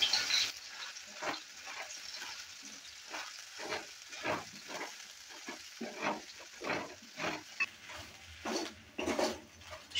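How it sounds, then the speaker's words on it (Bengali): Soybean chunks frying and being stirred in hot oil in a pan, a soft continuous sizzle broken by repeated scraping strokes of the spoon, close and fairly quiet, with no talk. "অয়েলটা হিট হয়ে গেছে, প্রথমে আমি সয়াবিনগুলোকে ভেজে নেব।"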